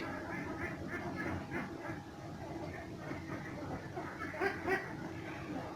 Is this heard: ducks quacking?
yes